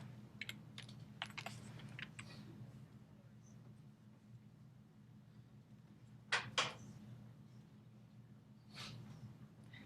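Short bursts of typing on a computer keyboard with a few mouse clicks, quiet and close over a low steady hum, with one louder pair of clacks midway.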